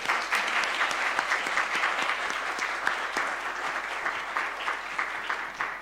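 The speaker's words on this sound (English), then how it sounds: "Can we give all of them a round of applause," A conference audience at a science policy symposium at UVA claps in a steady, even round of applause for about six seconds, with no talking over it.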